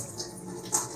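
Cold water poured onto a money plant during watering, a soft continuous trickling with a slightly brighter splash near the end, close and fairly quiet.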